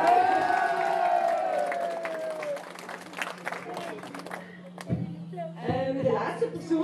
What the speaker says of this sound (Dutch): Dus aan iedereen, applaus voor jezelf.